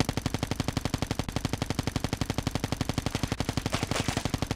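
A Cordite gun with a gunsmith build fires in the video game Call of Duty Mobile in one long, rapid, evenly spaced automatic burst, loud and close, running without pause from start to finish.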